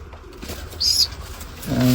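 A pigeon standing inside an enclosure gives a short, low, throaty coo near the end, preceded by a brief higher-pitched chirp against quiet background noise.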